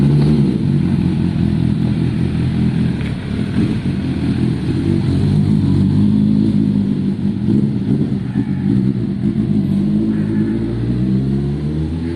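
A Suzuki motorcycle engine runs loud and close with a dense, steady low rumble and slight surges of revving throughout, with no talking.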